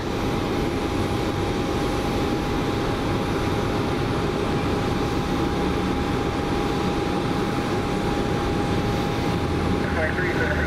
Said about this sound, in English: As the 319 pulls in